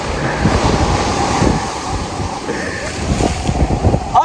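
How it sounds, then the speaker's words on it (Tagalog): Heavy surf pounds Talao-Talao Beach in Quezon during Typhoon Enteng, with strong wind buffeting the microphone. Loud crashing waves roll in repeatedly and rumble up close, and faint voices are occasionally audible under the roar. "Dito po ako sa gitna ng hampasan ng tubig."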